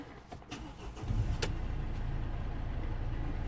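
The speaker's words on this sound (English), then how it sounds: "Let's start the engine." A Mercedes W212 E250 with a DPF fault is started: a brief starter crank, then a sharp catch as the engine fires and settles into a steady, even idle close by.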